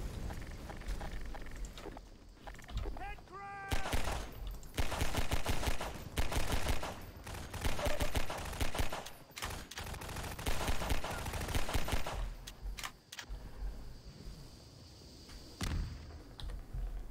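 Half-Life 2 game combat with shelling and gunfire: dense bursts of automatic fire and heavy impacts come in several loud clusters, broken by short quieter gaps, with no talk.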